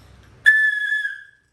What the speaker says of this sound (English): If you blow into a whistle, it creates a loud noise.